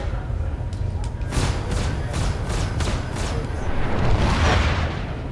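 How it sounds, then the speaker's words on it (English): Spaceship weapons firing in the Star Citizen video game, a rapid series of booming thuds and blasts over a rumbling engine bed, loud and continuous. "You're just shooting at me now?"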